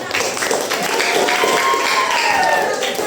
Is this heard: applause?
yes